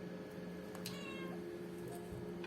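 A house cat yowls indoors, a drawn-out wail at mid-loudness over a steady background hum, with no speech.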